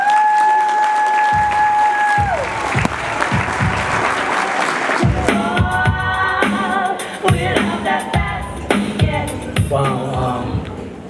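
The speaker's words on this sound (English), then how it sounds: "let's give a big round of applause for Charles Choo Smith" Loud applause from a gala audience greets the Change Agent Award recipient, a dense burst of clapping that swells after a short tone and continues steadily with some music behind it.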